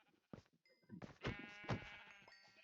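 Minecraft sheep bleat a few times in short, wavering game-sound calls, with a chime-like tone heard between them.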